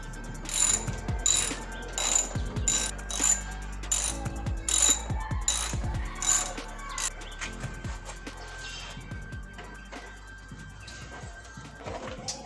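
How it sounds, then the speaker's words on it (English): A hand ratchet with extension and socket loosens the radiator shroud bolts on a Subaru, clicking in quick repeated bursts up close, with faint birdsong outdoors and no speech. "having a ratchet and an extension and a socket will make it a lot easier for you"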